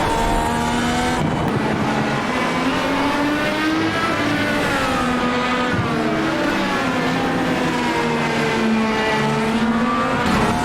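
Dallara IR18 race car in iRacing at Spa-Francorchamps, engine wailing at high revs with rising and falling pitch through gear changes, loud and continuous with no talk.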